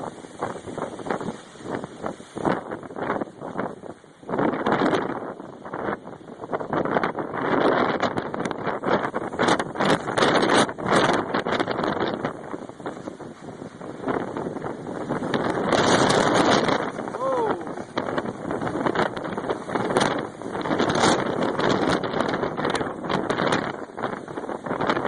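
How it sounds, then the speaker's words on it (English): Heavy wind in Apple Valley roars in loud, gusting waves, buffeting the microphone with rumbling surges that rise and fall throughout, with no clear voices. "this is what I'd call some heavy-duty wind."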